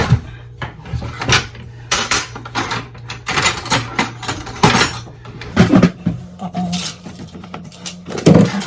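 Oatmeal and brown sugar are stirred together in a bowl, with irregular close scraping and clinking of a utensil against the bowl and a few louder knocks.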